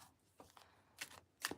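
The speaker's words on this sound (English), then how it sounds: "Right, Dahlia, tell me when to stop shuffling the cards." Tarot cards being shuffled by hand in a few short riffling bursts, quiet and close, with pauses between each burst and no talking.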